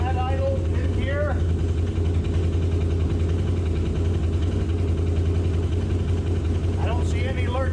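Four-wheeler ATV engine idling after a one-way clutch repair, a steady, close mechanical drone with even vibration and no rattling, faint brief squeaks over it.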